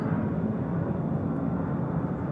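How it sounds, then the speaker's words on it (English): An army airplane passes overhead, a continuous low rumbling drone that stays steady and fairly loud throughout, with no talking. "Sounds like an army plane."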